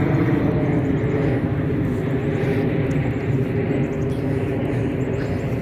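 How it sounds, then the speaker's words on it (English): A fixed-wing aircraft flies overhead in Seattle, producing a steady, loud broadband roar that holds for several seconds with no talking. "you can hear the sounds of aircraft"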